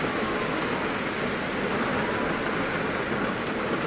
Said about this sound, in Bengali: দেখুন কত সুন্দর বৃষ্টি চলছে